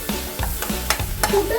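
Palak spinach fries in a pan, with loud sizzling and four or five rhythmic scraping stirs of a spoon against the pan, no voices.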